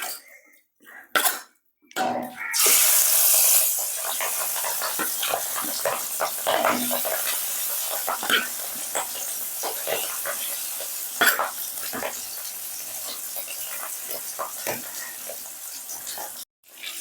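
Shellfish sizzle and crackle as they fry in hot oil in a pan, a steady bright hiss with scattered pops, close by, continuing for most of the stretch after a brief quiet start.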